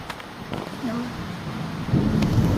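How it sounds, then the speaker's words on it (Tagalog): Deep thunder rolls in near the end of a heavy rainstorm, swelling from a steady wash of rain and wind noise into a louder low rumble. "Lakas ng kidlat."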